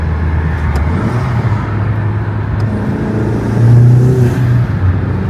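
A car engine with a cold air intake drones steadily up close with a low, throaty intake rumble that swells briefly louder before settling back.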